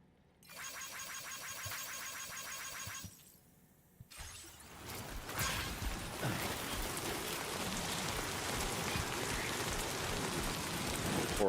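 Heavy rain pours down in a video game, starting after a brief burst of tonal game sound and a pause, then building into a dense, loud, continuous roar of water.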